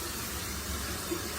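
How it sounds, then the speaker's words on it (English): Water runs steadily from a spout at an outdoor dog wash station, a continuous soft gushing hiss with no pauses, filling a dog's water bowl. "spout installed to fill up your dog's water"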